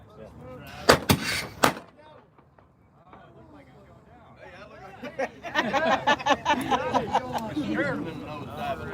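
Two cannons fire in quick succession at a living history drill aboard the USS Alabama, sharp loud blasts early on, followed by people chattering and talking nearby.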